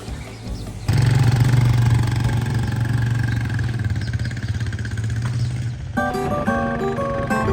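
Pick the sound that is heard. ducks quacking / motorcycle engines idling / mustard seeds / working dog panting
motorcycle engines idling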